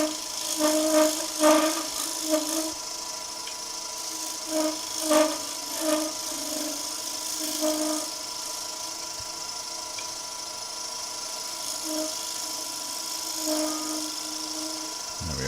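Skew chisel cutting down a proud center on wood spinning on a lathe, with the steady whir of the machine and repeated light scraping bursts of the cut, fairly faint, under occasional talk.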